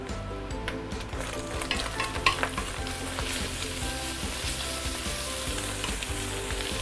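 Singapore hokkien prawn mee is stir-fried in a wok, a loud continuous sizzle with repeated clanking and scraping of the spatula against the metal, heard close with no voices.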